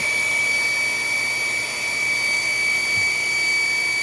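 An electric water pump fitted with an ELEPHANT EPC-4 automatic pump control runs steadily, a loud continuous whirring hum with a high tonal whine and a brief dip partway through, with no talking.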